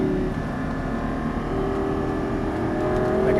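A Lamborghini Gallardo LP550-2 engine drones loud and close from inside the car on a racetrack, a steady, buzzing mechanical roar with no clearly separate downshift blips.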